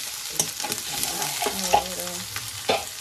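Garlic cloves from a home kitchen garden fry in a pan as they are stirred, a steady close sizzle broken by a few sharp clatters of the spoon against the pan.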